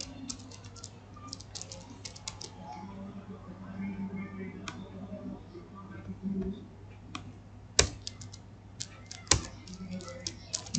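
Typing on a computer keyboard while working in MS Word, with quiet bursts of rapid key clicks and a few louder taps over a low steady hum, close by.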